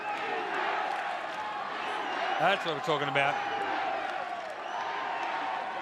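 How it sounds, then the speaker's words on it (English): Crowd noise at a women's football game in Melbourne, a steady wash of cheering with a brief louder swell, while a voice calls out over it and commentators talk. "Oh, I like the crowd getting into it."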